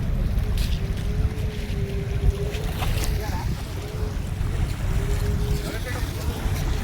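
A boat crosses the deep sea from Pattaya to Coral Island, its engine rumbling steadily under rushing wind and water, with a faint whining tone drifting over the constant roar and no clear talk.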